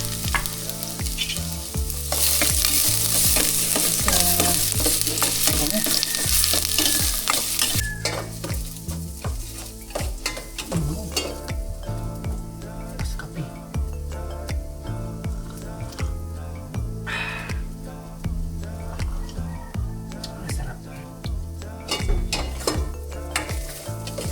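Food sizzles and fries in oil in a metal casserole pot while a utensil stirs and scrapes repeatedly against the metal, loud and close throughout.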